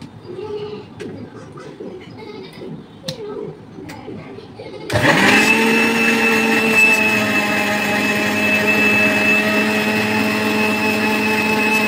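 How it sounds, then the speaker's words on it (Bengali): A kitchen blender whirs into a loud, steady motor drone, blending egg white into a smooth homemade hair pack paste. Before it starts there is quieter handling and background sound, then the motor runs continuously at a constant pitch. "ব্লেন্ডারে দিয়ে একটা স্মুথ পেস্ট আমি তৈরি করে নেব"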